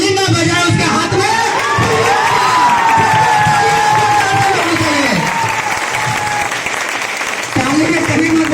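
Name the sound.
audience clapping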